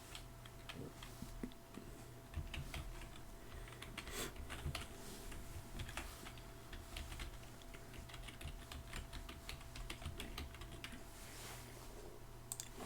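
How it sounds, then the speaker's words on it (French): An email address being typed on a computer keyboard: a steady run of close, quick key clicks with uneven rhythm and small pauses, moderately quiet over a low background hum, with no talking. "On va taper notre email."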